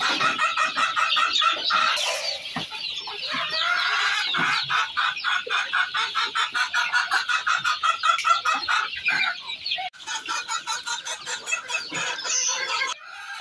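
Young caged chicks cluck and peep busily around feeding time, a dense, continuous chatter of many overlapping close calls with sharp chirps throughout and no talking.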